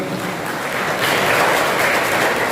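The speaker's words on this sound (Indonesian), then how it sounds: "Ya, tepuk tangan." Audience applause at a building inauguration ceremony in Batam, a dense continuous wash of clapping that swells a little after the first second and holds steady.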